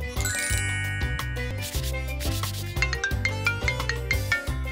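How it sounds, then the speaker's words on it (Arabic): A mobile phone rings with a bright, tinkling chime melody repeating in short bursts over a steady musical backdrop, fairly loud and close, with no talking. "هل يرن هاتفي؟"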